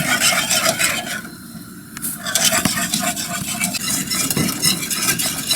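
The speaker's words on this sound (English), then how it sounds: "I've been constantly stirring, and I can feel that it's starting to thicken" A spoon scrapes steadily around a pot of thickening banana cream pie filling, in a continuous close rasping stir with a brief lull partway through and no talking.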